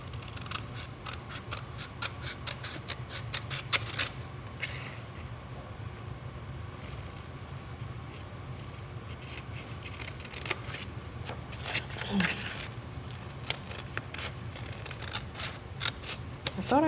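Scissors snip through scrapbooking paper in a quick run of crisp cuts, then sporadic snips follow over a low steady background hum; the cutting is close and fairly clear.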